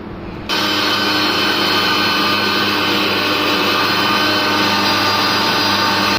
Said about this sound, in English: now we have to grind our onion, and then we will put here